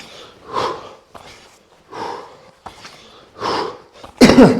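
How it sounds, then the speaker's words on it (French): Several coughs in a row, close and fairly loud, spaced about a second apart, ending in a harsher, louder burst. "Vous me pardonnerez si je tousse un peu."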